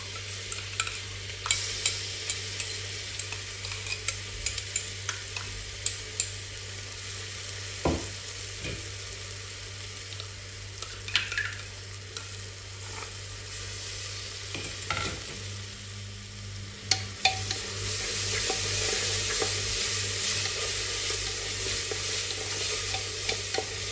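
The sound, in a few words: onions frying, ginger garlic green chili paste added and stirred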